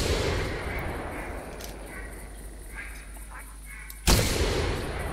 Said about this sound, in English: See if we can get a double shot.